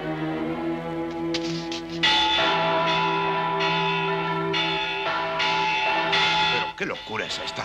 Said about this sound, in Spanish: hay que tocar las campanas para prevenir a la gente